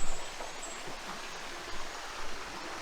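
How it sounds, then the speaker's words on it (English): Steady broadband rush of a mountain waterfall at Tanner Falls, a constant close wash of falling water with a few slightly louder surges and no voices. "beautiful waterfall."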